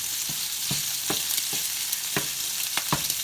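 Small sausage pieces sizzle and crackle steadily in a hot frying pan, with several soft stirring scrapes and pops breaking through the constant hiss at close range.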